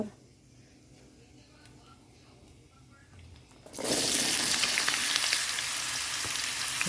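Potatoes drop into hot oil with nigella seeds, and a quiet stretch gives way abruptly to a loud, steady, close frying hiss that holds to the end.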